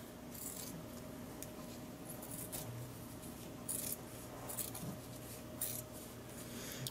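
Plastic bottle being cut along its seam, producing a steady faint rubbing, scraping texture with a few louder snips, continuing alone without talk.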